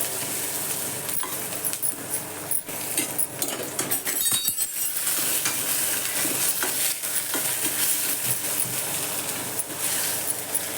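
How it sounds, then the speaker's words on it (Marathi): Onion and curry leaves sauté in a hot pan with a steady, close sizzle, broken by scraping stirs and light metallic clinks from the spoon against the vessel. "कढीपत्ता कांदा घालते टोमॅटो आवडत असेल तर घाला नाही घातला तरी चालतो जरा कांदा चांगला परतू द्यायचा"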